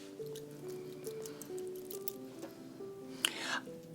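A damp makeup sponge gives a few soft wet squishes and faint drips close by, quiet and intermittent, with a brief louder squelch near the end.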